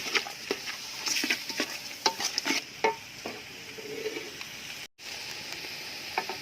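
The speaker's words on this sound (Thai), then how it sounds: "ผัดต่อยใส่รวนหนูครับ รวนให้เข้าเครื่องให้หอมก่อนครับ" Field rat meat stir-fried in a pan for a Thai curry: repeated spatula scrapes and clacks against the pan over a constant sizzle, with a brief break near the end.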